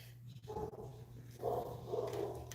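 Dogs barking in a home, a few short barks and yips in two bursts, moderately close, over a steady low electrical hum with no talk.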